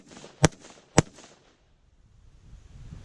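Two sharp, loud rifle shots from a PWS MK116 Mod1-M firing 55 grain 5.56 rounds, about half a second apart, each cracking close by and then fading into a brief echo and quiet outdoor ambience.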